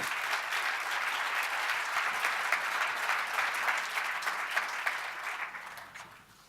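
Audience applause at the Bayonne Pays Basque chamber of commerce New Year's speech event: a dense, steady wash of many hands clapping in a hall, holding strong before tapering off toward the end.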